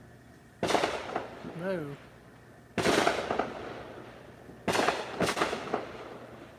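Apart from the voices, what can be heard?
fireworks being let off in the neighborhood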